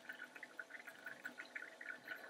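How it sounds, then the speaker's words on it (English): Water sloshing and trickling as a bottle is rinsed out for film-developing blix chemistry, a short, soft, bubbly swirl heard close with no talk. "now I'm just going to rinse out my next bottle for the Blix"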